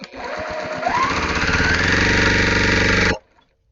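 A fast-running home sewing machine stitches quilting fabric along a magnetic seam guide, a loud steady mechanical whir and rapid needle chatter that holds for about three seconds, then stops abruptly.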